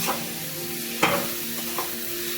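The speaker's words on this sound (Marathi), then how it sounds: "आपल्याला पूर्ण मिक्स करून घ्यायचं आहे त्याचा आपल्याला कलर चेंज होईपर्यंत मिक्स करून घ्यायचा आहे" A spoon scrapes and stirs a carrot halwa mixture in a pan with a steady low sizzle, a few sharper scrapes standing out, with no voices.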